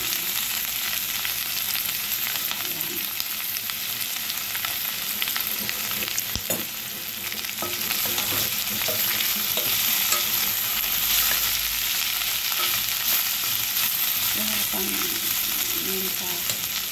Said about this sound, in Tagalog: Pinigisan natin yung bawang at sibuyas.